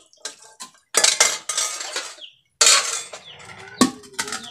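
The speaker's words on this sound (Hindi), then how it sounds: "अभी हम बर्तन धो लिए हैं" Dishes, pots and cutlery clatter and clank while being washed, in loud irregular bursts with short pauses between, close by and with no talk.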